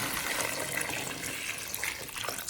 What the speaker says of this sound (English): then add enough water to fully submerge them.